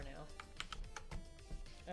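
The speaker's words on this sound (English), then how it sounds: "why are you not responding to my keyboard" Keys on a computer keyboard are tapped in a quick irregular run of clicks, close and moderately quiet, with a person's voice talking over them.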